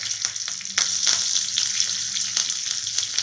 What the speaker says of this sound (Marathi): त्यामध्ये आहे ना हे कढीपत्ता टाकू